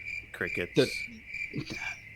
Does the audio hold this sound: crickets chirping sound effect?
yes